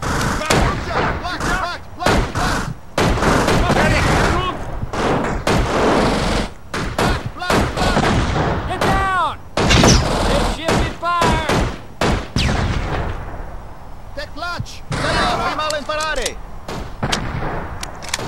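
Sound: gunfire in video game America's Army

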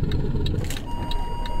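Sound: truck engine pulling away in Euro Truck Simulator 2 video game

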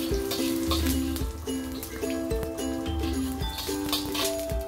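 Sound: garlic sautéing in hot oil

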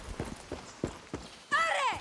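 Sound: horse hooves clip-clopping in video game Far Cry 6

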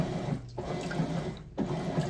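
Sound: top-load Maytag washer agitating with water

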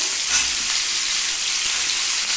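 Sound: cauliflower and carrot frying in oil

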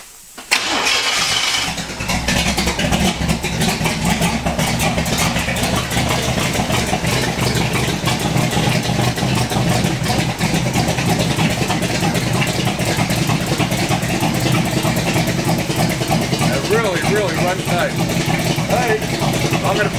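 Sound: 1929 Ford Coupe engine started and idling

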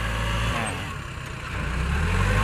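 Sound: Kubota L4508 tractor engine pushing soil with front blade

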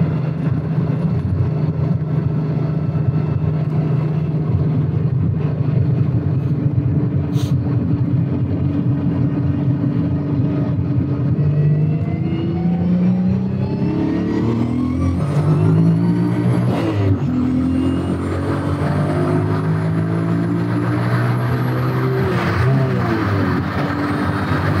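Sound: modified VW Golf accelerating on a test drive

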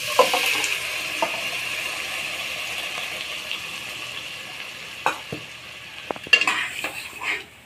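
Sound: chana dal added to hot tempering and stirred in pan

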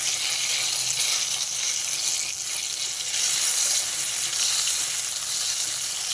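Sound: brinjal parcels (vankaya potlam) frying in a pan

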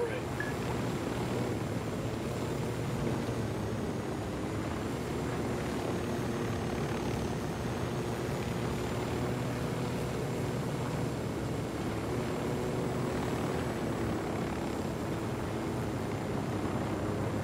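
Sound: helicopter approaching in the video game Ghost Recon Wildlands

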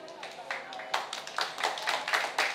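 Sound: audience applause after a stage speech

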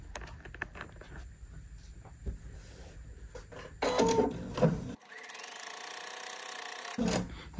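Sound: sewing machine sewing quilt block seams

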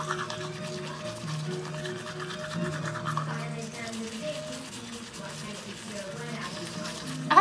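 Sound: tongue cleaning, scraping the tongue

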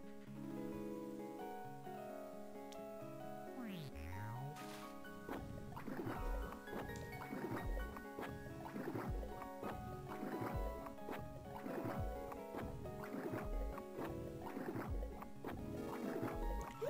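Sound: water being sucked out of a pond, Mother 3 video game

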